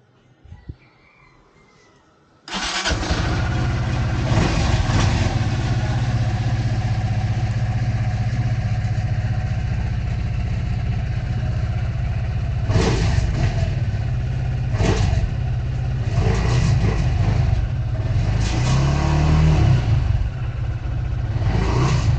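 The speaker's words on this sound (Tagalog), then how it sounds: "Ang ganda na naman ng tunog ng makina niya" After a quiet start, a Kymco DTX 360 motorcycle engine, freshly serviced with an oil change, starts up and idles steadily up close, with several brief revs rising above the rumble.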